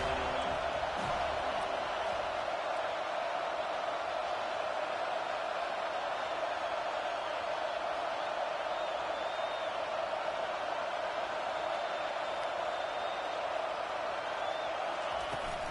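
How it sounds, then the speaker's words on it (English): A large American football stadium crowd roars steadily in the distance, a continuous wash of cheering noise without pauses. "This crowd bringing the energy and noise early."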